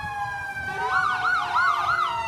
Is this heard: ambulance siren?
yes